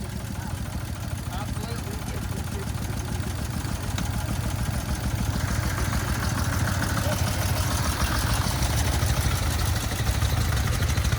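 A Sears high wheeler antique car engine chugs in a fast, steady rhythm at an outdoor car meet, loud and close, with crowd chatter around it.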